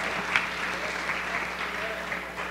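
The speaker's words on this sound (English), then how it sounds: "We got to applaud everything." Church congregation applauding during a morning celebration service, a short steady burst of clapping with voices mixed in.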